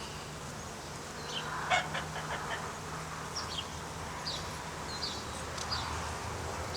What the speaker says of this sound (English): See all those bees?